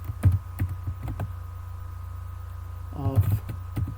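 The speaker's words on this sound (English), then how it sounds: "I have to type here the prompt." Scattered keystrokes on a computer keyboard as a prompt is typed: irregular clicks spread through the clip, with a short quick burst near the end, over a low steady hum.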